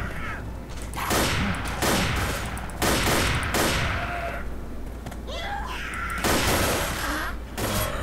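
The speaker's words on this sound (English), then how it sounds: "Fire the howitzer." Howitzer firing in the video game Left 4 Dead, several loud booming blasts spaced a couple of seconds apart over constant game noise, with a voice briefly speaking.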